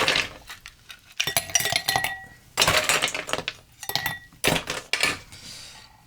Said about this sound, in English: Add a little ice.